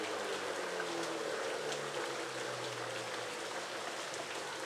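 Heavy rain pours steadily onto a flooded street, a dense continuous hiss of drops and splashing water with no break, fairly close and even throughout.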